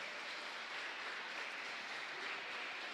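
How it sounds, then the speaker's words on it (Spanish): Applause for grandparents at a Catholic Mass in the Santa Ana y San Joaquín chapel: steady, faint, distant clapping from a crowd, an even wash of sound with no voices over it. "un fuerte aplauso para"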